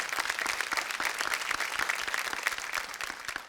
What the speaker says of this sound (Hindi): एक बार तिगड़म के लिए जोरदार तालियां प्लीज।